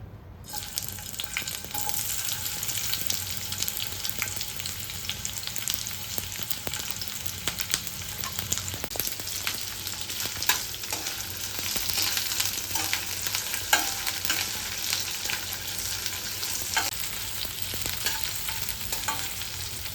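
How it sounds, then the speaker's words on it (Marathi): Onions frying in a little hot oil in a pan give a continuous, fairly soft sizzle with occasional light crackles and faint stirring scrapes running the whole time. "कांदा फ्राय करून घेऊ. त्याच्यामध्ये थोडंसं तेल घेते पॅनमध्ये."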